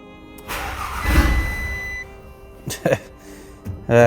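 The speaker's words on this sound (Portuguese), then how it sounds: "o motor até pegou, mas não sustentou" An abandoned auction Audi TT cranks, briefly catches and stalls: a rough engine surge lasting about a second and a half, then a few short sputtering bursts and a final catch, with speech mixed in.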